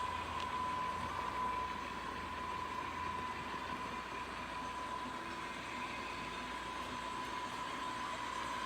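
An Atlas RS11 model locomotive with an older ESU DCC decoder runs steadily on a layout, a continuous faint mechanical hum with a thin steady whine and soft rolling noise, no talking.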